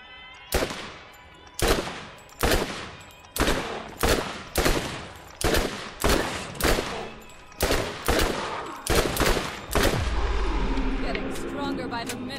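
Gunfire in the video game Borderlands: around a dozen loud, sharp shots or short bursts come at a steady, quick pace, then give way to a continuous rumbling roar near the end.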